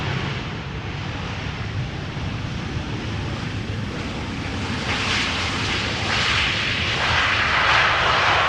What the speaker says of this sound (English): number 3 is an A319 arriving from Milan,